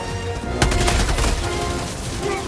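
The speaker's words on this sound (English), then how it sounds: "He's shooting me" Enemy gunfire in the video game Helldivers 2, a rapid volley of sharp shots clustered near the start over a loud, dense game soundscape.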